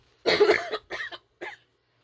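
A person coughs close up, one strong cough followed by two shorter ones in a quick burst, with silence around them.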